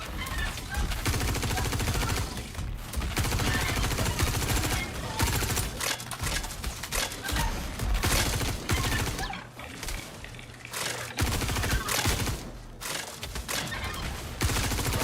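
Sustained, dense automatic gunfire in the video game Star Citizen, loud and continuous with brief dips, under a player's talking.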